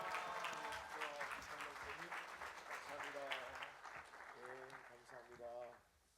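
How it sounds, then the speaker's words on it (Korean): A church congregation applauds to welcome the pastor to the pulpit at a Sunday service; steady clapping fills the clip beneath voices and sung or called-out tones, fading out at the end. "우리 할렐루야로 환영하며 우리 환영의 박수 하시겠습니다"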